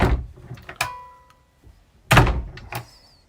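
A boat cabin door on a Fairline Targa 50 Open motor yacht closes with a solid thunk, followed moments later by a second heavier thump and a brief rattle, close by and otherwise quiet.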